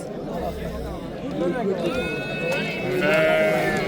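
Sheep bleat repeatedly at a Sunday livestock market in Uzun district, Surxondaryo, close and fairly loud, rising over a steady crowd murmur and nearby voices.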